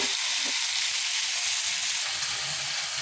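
Vegetable bhaji of poi fruit frying in a pan, a steady close sizzle with crackling that holds at an even level throughout, with no talk.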